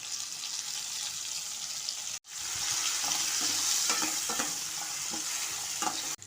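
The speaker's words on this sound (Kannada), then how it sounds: "ಸಣ್ಣದಾಗಿ ಕಟ್ ಮಾಡಿ ಇಟ್ಕೊಂಡಿರುವಂಥ ಟೊಮೆಟೊ ಹಾಕ್ತಾಯಿದ್ದೀನಿ" Chopped tomatoes hiss and sizzle in a pan with chili-garlic paste. A sharp burst of frying follows a brief pause, then stirring scrapes continue under the steady crackle.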